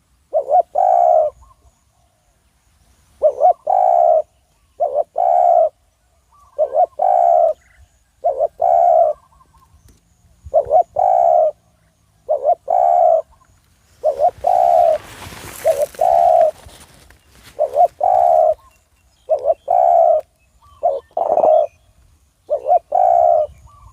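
Repeated soft cooing calls from a spotted dove, short phrases spaced a few seconds apart, fairly close, with a brief burst of rustling noise midway.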